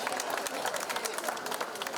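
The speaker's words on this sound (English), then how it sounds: "So big round of applause for them, please." Audience applause at the opening of the 37th IMC Ladies Wing event for two gentlemen: dense, continuous clapping from a crowd, moderately loud, with a faint voice mixed in.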